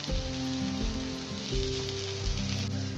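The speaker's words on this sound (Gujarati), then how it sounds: "બરાબર ઘીમાં શેકાઈ જાય." Ragi millet tacos roast in hot ghee in a pan, with a continuous soft sizzle under background music.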